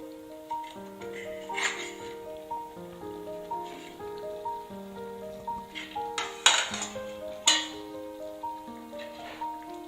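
Metal clinks and scrapes as a pot lid is lifted and a spoon stirs simmering green gram (pachai payaru) curry, with soft background music playing throughout.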